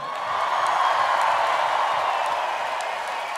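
An audience at a Gurtenfestival live concert applauds a lighting technician, giving a broad, steady wash of crowd clapping and cheering that swells and holds.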